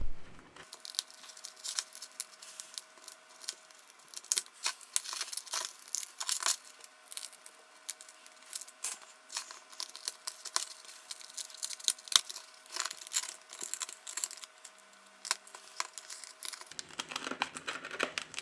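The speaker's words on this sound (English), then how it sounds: "To loosen the adhesive, we use a plastic triangle opening tool." Plastic triangle opening tool working the adhesive under a Nokia 6.1 screen, giving dense, irregular crinkling and crackling close up, steady for most of the stretch before a short softer scrape at the end.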